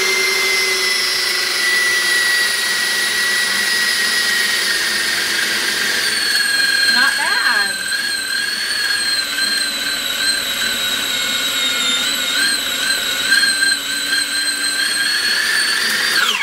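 A tiny food processor whirs steadily while mixing keto dough of vinegar and water, a loud continuous motor whine that shifts pitch partway through as the dough catches, running alone without talk.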